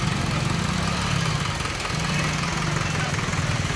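A steady, low tractor engine drone runs throughout on a town road, the heavy motor idling or chugging nearby with a constant rumble and no talking.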